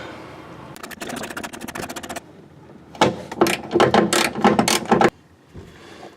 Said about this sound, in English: That's where the ratcheting box end, or really it was the open end that saved us on that one.